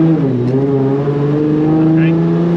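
A 2JZ-swapped BMW E30 with an 8HP70 automatic pulls in first gear, its engine drone rising steadily and loud from inside the cabin, with a voice talking briefly over it.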